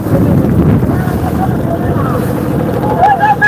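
Water sloshing and slapping against a boat hull during a boat race under a cloudy sky, amid gusty wind noise, with voices talking over it.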